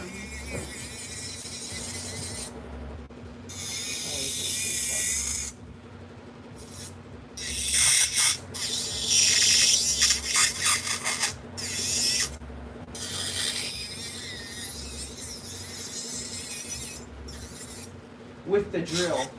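A Dremel-style rotary drill files a fingernail during a nail treatment, giving a steady close whirring buzz broken by short pauses and bursts of louder grinding.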